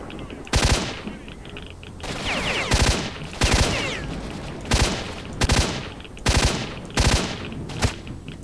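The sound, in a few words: gunfire in video game S.T.A.L.K.E.R.: Shadow of Chernobyl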